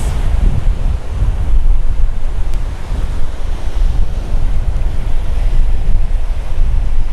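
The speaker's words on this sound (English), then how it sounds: "it's quite windy today" Strong wind gusting across a Caribbean beach at Punta Cana, loud rumbling buffeting on the microphone mixed with the wash of surf, continuous and unbroken with no voices.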